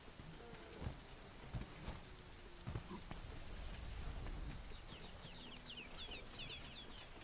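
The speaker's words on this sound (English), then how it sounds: "Cozy weather too, man. Some soft rain." Soft, steady rain falling on a surface, a broad hiss throughout with scattered faint drips and distant birds chirping near the end.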